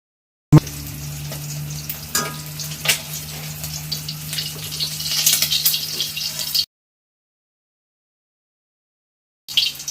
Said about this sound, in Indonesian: kita tungguin minyaknya turun, lalu kita masukin atau kita masak telur dengan harga 2000-an